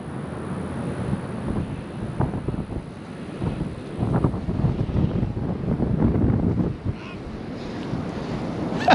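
Steady buffeting wind and rumbling road noise on a New Year's Day fishing outing, a continuous loud roar with gusty swells and occasional thumps throughout.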